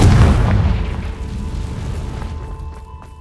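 A Confringo spell explosion in Hogwarts Legacy lands as a single loud, close boom that rumbles and fades over a few seconds, followed by faint tonal game sounds.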